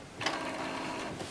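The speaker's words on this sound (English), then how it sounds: "the cartridge carriage is going to move in a proper place" An Epson Artisan 50 inkjet printer's cartridge carriage whirs and shuttles along its rail, a continuous close mechanical hum with a rattling start.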